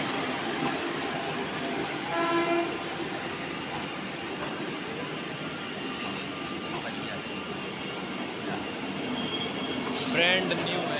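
A Vande Bharat Express train rushes through Etawah Junction, a continuous loud roar of wheels and rushing air with a brief horn-like tone near the end.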